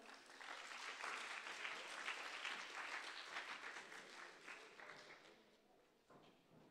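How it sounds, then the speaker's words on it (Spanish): A crowd claps steadily for several seconds, a dense patter of hands that gradually thins and fades toward the end. "¡Un fuerte aplauso!"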